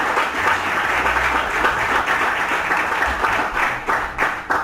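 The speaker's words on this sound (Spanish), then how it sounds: "Vamos a dar un aplauso a nuestro Dios." A church congregation applauds together, a full, sustained wash of clapping hands that holds steady and loud throughout, with a few sharper individual claps standing out toward the end.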